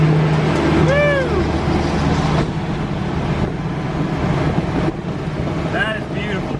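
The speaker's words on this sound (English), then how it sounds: "Check out this beautiful truck about to pass me here" A diesel truck rolls past on a roadway with a steady, close low engine rumble that swells and fades, while a voice exclaims excitedly over the passing noise.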